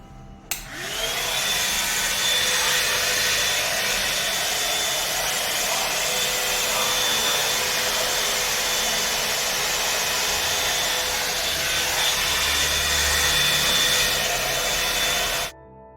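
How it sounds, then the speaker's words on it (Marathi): An Urban Yoga 3-in-1 hot air brush running: a loud, steady, close blowing whir that switches on sharply and holds constant for about fifteen seconds before cutting off, no talking. "हे अर्बन योगाचं 3-in-1 हॉट एअर ब्रश वापरणार आहे मी।"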